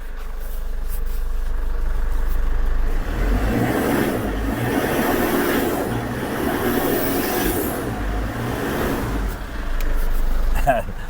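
A Ford Everest engine idling with a low steady rumble, then revved a few times so the drone rises and falls, with people talking nearby throughout.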